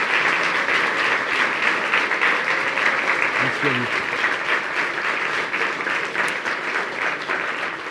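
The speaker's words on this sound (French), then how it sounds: "Je vous propose d'applaudir bien fort." A science conference audience claps loudly and steadily for the whole stretch after a talk, while someone briefly speaks over the applause.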